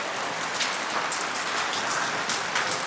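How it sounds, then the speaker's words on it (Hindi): Heavy rain pours down in a fog-covered Himalayan mountain valley near Rudranath temple: a steady, dense, loud hiss of drops striking surfaces, continuous throughout with no voices. "इतनी खतरनाक तेज बारिश शुरू हो गई एकदम से"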